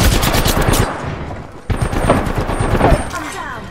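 Loud, dense automatic gunfire from the video game Apex Legends rattles continuously, with a brief dip partway through before heavy firing resumes. Speech is faintly mixed in.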